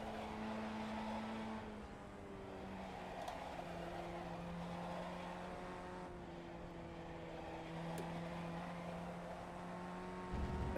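A Formula Ford 1600 race car laps the Mosport circuit, its engine droning steadily from on board. The pitch rises and falls as the car shifts and changes speed, and the sound stays fairly quiet, with no voices.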